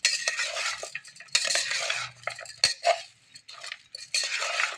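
Kala mixed with mango pickle is stirred with a spoon, producing bursts of close metallic clinks and scrapes against the dish with short pauses between them and no talking.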